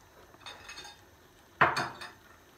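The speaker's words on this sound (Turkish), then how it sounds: "Şöyle hafif de bir karıştırıyorum." A spoon stirring lamb and vegetable stew in a pot, with a few light scrapes followed by a sharper metallic clink against the pot.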